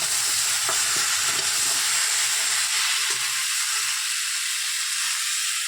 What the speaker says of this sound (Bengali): এবার একটু নাড়াচাড়া দিয়ে নিই।